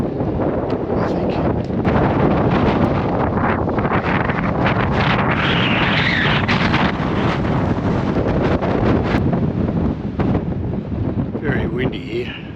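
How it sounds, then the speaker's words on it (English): Strong wind buffets the microphone with a loud, continuous roar and gusting rumble throughout, on a mountain trek in Torres del Paine. "The wind here has really picked up"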